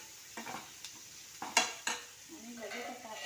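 Salted muhach fal vegetable is stirred in a pan, with several distinct spoon scrapes and clacks against the metal over a low sizzle, close and fairly loud, no talking.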